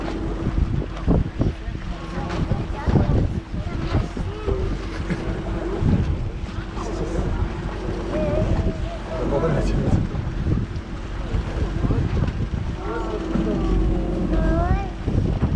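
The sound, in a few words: wind at the seaside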